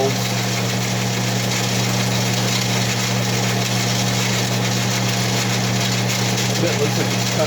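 A rotary tool bit cutting into a Stihl MS461R chainsaw piston: a loud, unbroken buzzing whine holding steady throughout, with no pauses or changes in pitch.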